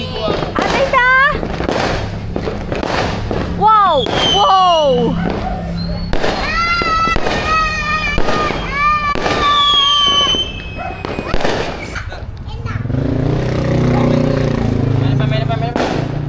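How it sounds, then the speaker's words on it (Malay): Fireworks and firecrackers burst during a Raya celebration, a rapid series of loud sharp cracks and whistling rockets, with children's voices and exclamations mixed in among the explosions, ending in a crackling fizz. "Jadi main apa tu? Bunga api."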